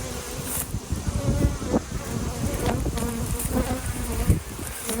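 Dense, close buzzing from a swarm of honey bees around the outside of a beehive, a continuous drone with individual bees zipping past the microphone. No talking is heard.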